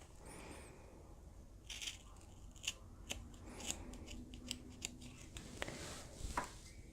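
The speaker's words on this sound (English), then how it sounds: "Now I'm going to cut from the dot toward the corner, up and down like a Y, clipping as close to the corner as I can" Sharp scissors snip through fabric while clipping a welt pocket corner, a series of crisp close cuts in an irregular rhythm, with no talk.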